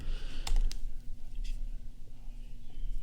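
Fingers tap on a computer keyboard, a few quick clicky keystrokes at close range against a quiet room hum.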